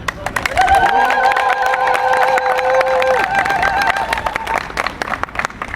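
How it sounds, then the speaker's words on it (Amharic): A crowd ululates and cheers at an Ethiopian Flag Day gathering in Atlanta. Several high, sustained trilling voices rise together over a steady roar of cheering, loud and close, for several seconds. "በመጀመሪያ አንድ ጊዜ እልል ብለን እናለን"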